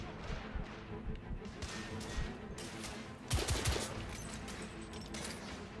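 Coach gun blasts in The Order: 1886, a shotgun firing in a heavy firefight, with repeated loud shots and a denser burst of gunfire partway through over constant battle noise.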